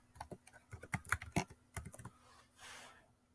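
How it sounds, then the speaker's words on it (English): Quick clicking keystrokes on a Chromebook keyboard as a password is typed, a close, quiet run of taps in bursts, ending with a soft brush. "Hopefully I typed that correctly."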